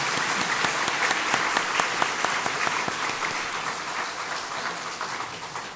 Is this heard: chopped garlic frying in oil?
no